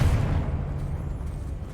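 Confringo, a blasting fire spell in Hogwarts Legacy, lands as a deep, booming burst that fades into a low rumbling tail, loud and close, with no talk over it.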